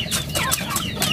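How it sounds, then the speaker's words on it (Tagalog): Farm chickens being fed cluck and peck in short, repeated bursts, several birds close by, busy and fairly loud with no talk. "papakainin ko na po itong mga manok"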